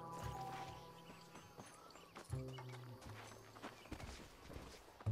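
Horse hooves clip-clop at a walking pace in a Red Dead Western game, a steady close rhythm of hoof strikes with faint background ambience and some voice-like murmurs mixed in.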